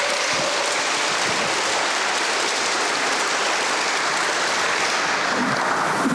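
Audience at a church camp meeting applauding, a dense, steady roar of clapping that stays loud and even from start to finish.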